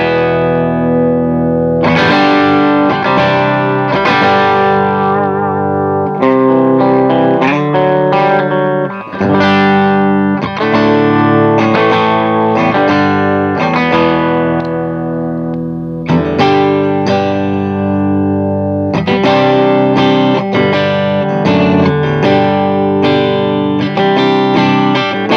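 An electric guitar through an upgraded Jet City JCA20H 20-watt tube amp, volume cranked and guitar volume rolled back, plays loud continuous chord phrases with a slightly crunchy, full tone and short pauses between passages.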